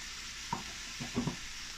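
Rice with about a quarter teaspoon of saffron and black pepper being stirred in a frying pan, a few soft scraping strokes over a faint steady sizzle, close and quiet.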